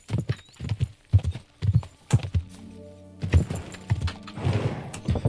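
Horse hooves clip-clopping at a gallop over rough terrain in the medieval game Kingdom Come: Deliverance 2, with a brief whinny and rustling tack, loud and close, steady rhythmic beats throughout.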